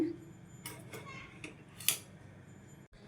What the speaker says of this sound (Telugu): ఈ విధంగా ఈ బెల్లాన్ని కరిగించుకోవాలండి కలుపుకుంటూ కరిగించుకోండి